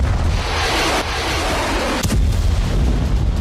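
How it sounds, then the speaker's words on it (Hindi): Artillery shelling pounds a Donetsk war zone in a dense, rumbling roar with a sharp crack near the middle, loud and continuous, with no voices. "डोनेट्स्क के वॉर ग्राउंड में भीषण बारूद बरस रहा है।"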